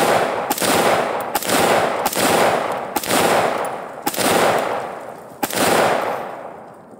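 Roughly seven loud 5.56 rifle shots fired into 100 lbs of concrete outdoors, spaced about a second apart, each sharp crack trailing off in a rolling echo.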